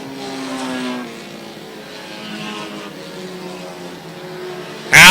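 Race cars circle an oval track in single file, a steady loud engine drone with layered revving that rises and fades as they pass, ending in a sudden harsh burst.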